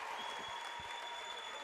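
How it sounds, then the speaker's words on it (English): A crowd at a high school boys basketball game between Devils Lake and Kindred in North Dakota claps steadily in a gym, the applause faint and continuous throughout. "Almost a little bit of a nervous clap for both teams there."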